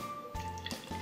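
Blended mango lassi made with yogurt and water is poured into a small jar, giving short wet splashing and trickling bursts over a faint steady hum.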